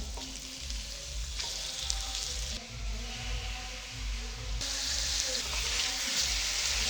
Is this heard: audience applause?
no